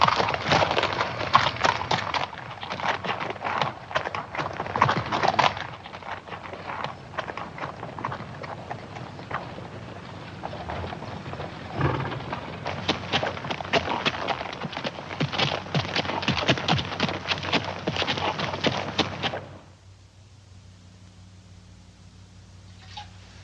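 Horses' hooves clip-clopping steadily over ground, several animals at a brisk pace, loud and close, before fading to near quiet at the end.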